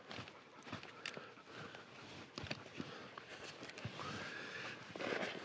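Mule being mounted and ridden outdoors, with hoof clops, shuffling and creaking tack close by, plus scattered thumps and rustles at moderate loudness, no talk.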